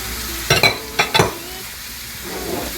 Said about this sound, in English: We're going to go in with all of those tomatoes.